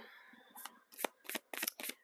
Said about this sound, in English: I do have this deck that I'm shuffling.